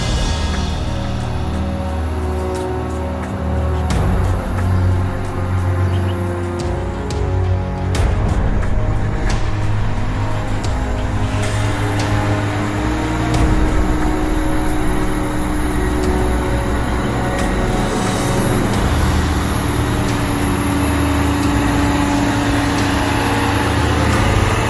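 Heavy truck on a dangerous road, tires rolling with a loud, continuous engine drone and road roar that shifts in pitch as it moves along.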